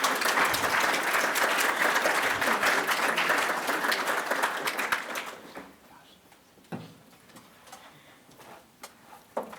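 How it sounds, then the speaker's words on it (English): Graduate school orientation crowd at Ball State University gives a panel of graduate students loud, dense applause that fades after about five seconds, leaving a quiet room with a few scattered knocks and claps. "Can we give them a round of applause"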